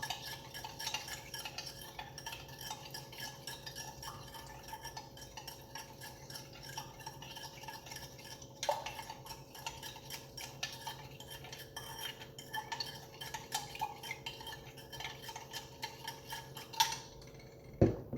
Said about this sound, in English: So we give this a good mix, just dissolving the sugar in the milk.